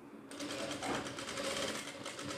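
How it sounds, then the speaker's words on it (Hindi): A sewing machine stitching kurti fabric in one continuous, even run of rapid mechanical stitching, close and steady throughout. "अब एक सिलाई हम लगाएंगे इस वाले कपड़े पे"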